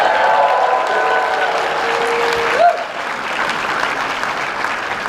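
Sustained audience applause fills a Dallas Comic-Con fan expo panel room, a steady wash of clapping from a large crowd that holds at an even level and eases slightly toward the end.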